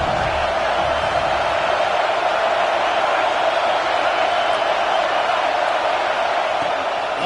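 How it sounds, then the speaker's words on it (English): Home crowd at a college football game roaring loudly, a dense, sustained wall of cheering noise at constant intensity throughout with no breaks. "how nice is it to have the home crowd going absolutely bananas"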